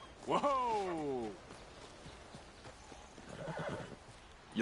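Horse in Red Dead Redemption 2 gives a loud whinny up close, then hooves clip-clop steadily as it sets off, with a faint voice in the background.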